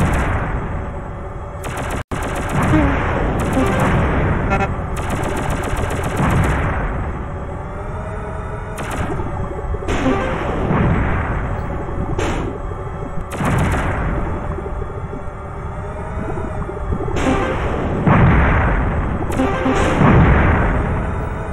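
Rapid arcade-style machine-gun fire and booming blasts from a Space Harrier-style shooter game, loud and nearly continuous, with repeated bursts over a steady electronic din and no talk.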